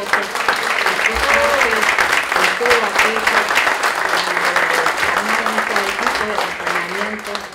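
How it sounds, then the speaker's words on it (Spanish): An audience at a social and political commitment award ceremony at the Universidad Nacional de Córdoba breaks into loud, sustained applause for Carolina, with voices rising through the clapping. "un aplauso para Carolina"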